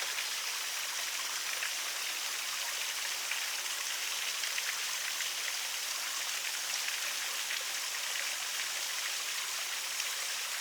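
Water rushes and splashes continuously at a steady level, a hissing, even flow like a waterfall nearby with no voices.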